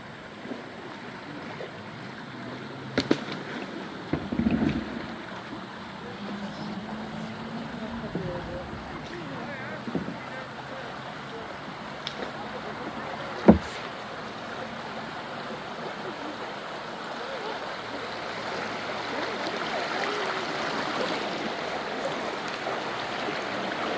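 Fast-moving river water rushes steadily around a kayak, a broad continuous wash with occasional knocks and splashes near the boat.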